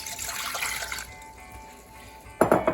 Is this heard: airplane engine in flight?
no